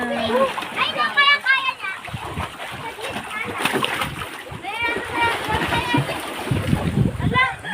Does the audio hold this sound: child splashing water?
yes